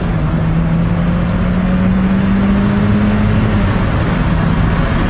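A Mazdaspeed NB Miata accelerates under turbo boost, its engine a loud steady drone rising slowly in pitch from inside the cabin, with road and wind noise underneath.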